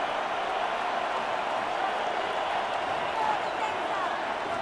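Stadium crowd cheering and applauding after a defensive stop in a Madden 26 simulation of Eagles vs Commanders, a steady, dense roar with no break across the clip.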